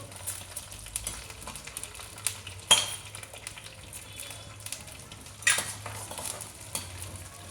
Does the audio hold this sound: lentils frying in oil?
yes